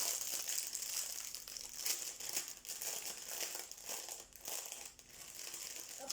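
Plastic packaging of a cross-stitch haul item crinkles steadily as it is worked open by hand, a continuous close rustling throughout.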